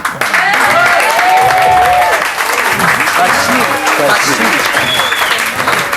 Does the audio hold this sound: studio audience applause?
yes